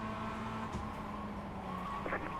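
Race car engine in the iRacing sim, a steady sustained drone with harmonic bands that holds throughout at moderate level, no talk over it.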